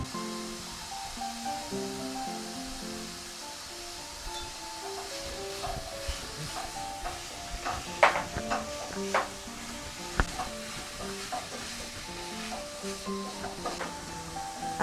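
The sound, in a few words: chicken and potatoes frying in a pan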